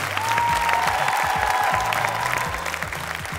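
A gala concert audience applauds steadily, dense clapping filling the hall throughout and easing slightly near the end.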